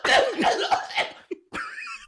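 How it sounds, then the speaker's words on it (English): A person coughs in a quick cluster of rough bursts, then a short throaty sound and one more cough close by, with no words spoken. "Coughing."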